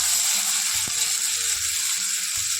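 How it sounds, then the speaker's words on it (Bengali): Garlic paste, followed by onion paste, drops into hot oil in a Bengali kitchen, giving a steady bright sizzle under scattered low clatters and stirring knocks. "তেলটা গরম হয়ে গেছে, এবার দিলাম রসুন বাটা, তারপরে দিয়ে দেবো পেঁয়াজ বাটা"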